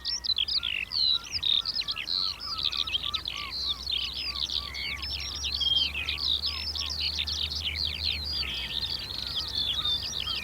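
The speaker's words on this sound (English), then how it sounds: "the noisy congregation of starlings, which are so conspicuous on the burrows" A flock of starlings gathers on coastal burrows and fills the air with a dense, continuous chatter of chirps, clicks and whistles. The calls overlap and hold at an even level over a low background rumble.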